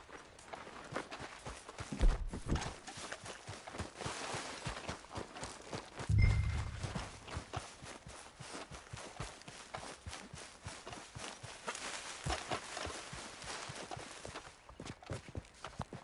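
Horse hooves clip-clopping at a steady rhythm in Red Dead Redemption 2, a quiet continuous run of hoofbeats with a couple of louder thuds along the way.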